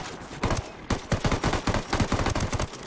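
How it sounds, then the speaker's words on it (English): Rapid automatic gunfire from the video game Ghost Recon Wildlands, dense overlapping bursts of shots rattling loudly and almost continuously. "I'm being shot from multiple angles."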